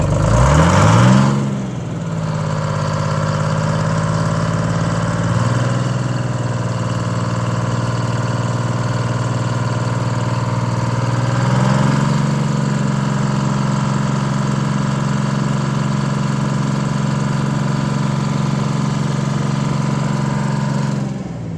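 A Detroit Diesel inline six 6-71 engine idles steadily after a cold start, a loud, continuous low diesel rumble that rises briefly in pitch a couple of times as it settles.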